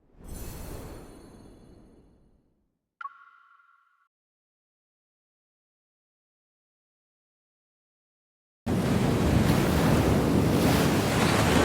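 Ocean surf in the Love and Deepspace video game washes in loud and broadband, fades out, then a brief tonal chime rings before near silence, and a heavy rush of waves and wind surges back.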